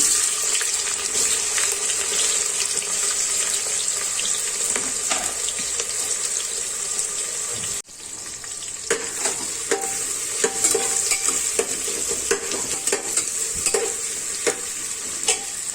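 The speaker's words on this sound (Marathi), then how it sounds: "कांदा लाल होईपर्यंत परतून घेते" Onion frying with whole spices (cloves, cinnamon, black peppercorns) in a pan for veg pulao makes a bright continuous sizzle, with frequent spatula scrapes and stirring clicks, close and steady.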